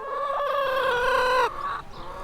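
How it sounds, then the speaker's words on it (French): Hens in an urban farm chicken coop give sustained, close clucking and drawn-out calls, loud and clear with no talking. "La deuxième chose qu'on a installée, c'est le poulailler."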